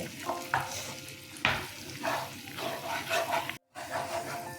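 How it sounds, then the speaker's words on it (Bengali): A spatula stirs ground coriander and cumin through a sizzling mixture in a pan for an egg shahi korma, with continuous frying hiss and repeated scraping strokes close by, broken by one brief gap. "এবার আবার একটু ভালো করে এগুলো মিশিয়ে নেব।"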